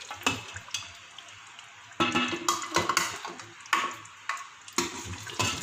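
Mutton korma being served onto a dish, with spoon scrapes and clinks of metal on pot and plate coming in short, close bursts separated by quiet gaps.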